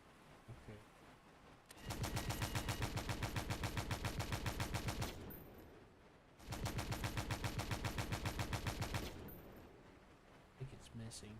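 Weapons in a video game firing in two long, steady bursts of rapid, evenly spaced shots that sound like a heavy automatic gun, with gaps between them and brief voices at the edges.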